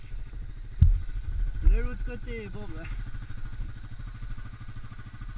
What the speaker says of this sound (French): Le moteur est dans l'eau carrément.